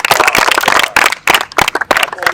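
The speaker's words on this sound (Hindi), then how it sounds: "तालियां मारो देवांश के लिए" A live show audience claps for a guest named Devansh in quick, uneven bursts of hand claps, close and fairly loud, with brief gaps between the clusters.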